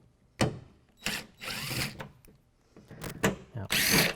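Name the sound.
impact driver removing T30 Torx bolts from Toyota Tacoma tailgate cap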